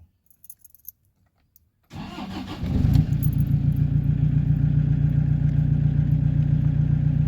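A Toyota Vigo pickup engine starts after a few faint clicks: the starter cranks briefly, the engine catches with a rising surge, then settles into a steady, loud idle rumble close by, with no talking.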